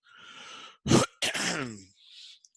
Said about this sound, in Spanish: Perdón, tengo una tos terrible hoy.